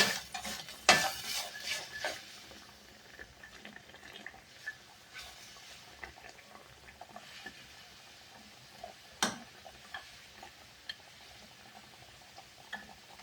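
Chili curry paste stir-fried in a pan, a soft low sizzle under intermittent scrapes and clinks of a utensil against the metal, with a few sharper knocks.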